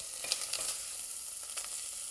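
Soft, steady sizzling of garlic sausage browning in a pan, with faint crackles and pops; no talking.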